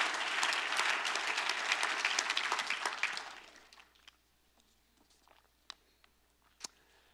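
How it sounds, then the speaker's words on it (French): A church congregation claps together during a morning service, dense applause for about three seconds that quickly thins to a few scattered claps and quiet room noise. "On peut applaudir Dieu, le Seigneur Jésus, ce matin."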